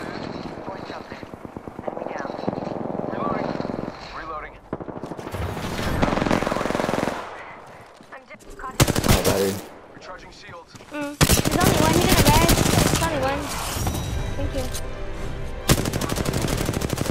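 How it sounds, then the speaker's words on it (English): Bursts of automatic gunfire from a video game crackle through a busy battle mix with helicopter-like whirring. The shots are loud and come in clustered volleys, and voices talk over the action. "Getting shot at."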